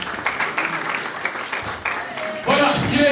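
Scattered applause at a political gathering of the UDPS party, clapping that rises and falls in bursts before louder crowd noise and voices take over near the end.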